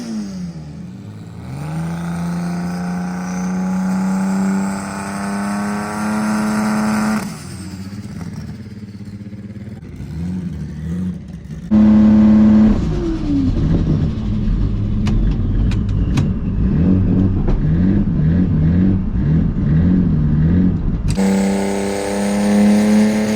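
Honda Prelude drag car at a Street Car Takeover event, its engine revving loudly with rising pitch sweeps, cutting off, then roaring hard again on launch, up close and dominating with no talk.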